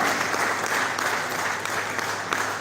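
An audience at a youth symposium claps continuously as someone walks to her position, a thick, even roar of applause with no pauses.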